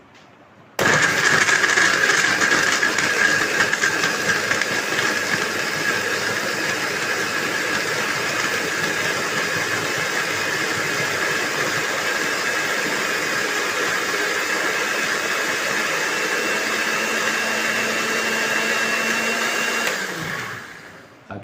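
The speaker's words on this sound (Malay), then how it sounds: "memudahkan dia di blender supaya mudah di blender, mudah dikisar, dan kita blender" Blender grinding mangosteen peel with water, a loud continuous motor whir starting abruptly and running steadily for nearly twenty seconds before winding down at the end.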